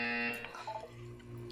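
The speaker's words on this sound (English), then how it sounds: "When you hear the buzzer, look down at the floor." A buzzer sounds in the video game PORGY 2, a short electronic tone at the start that fades into a quiet ambient hum.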